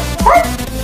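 A single short, yelping bark voiced by a child imitating a dog, close and loud.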